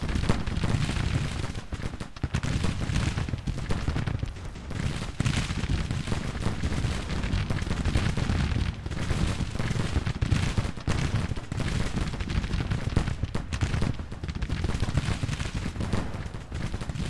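Continuous artillery barrage in the Civil War strategy game Grand Tactician, dense rumbling cannon fire and booms rolling without pause, loud and sustained throughout.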